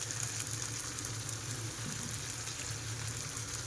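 Spices such as turmeric, homemade masala and coriander-cumin powder hitting hot oil in a pan with tomatoes, a soft continuous sizzle and crackle, steady and fairly quiet with no talking.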